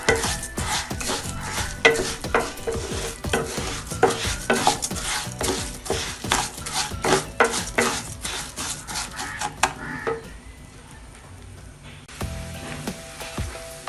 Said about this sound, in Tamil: இதுலேயே வந்துட்டு இந்த மாதிரி நல்லா ஃப்ரை பண்ணி எடுத்துக்கலாம்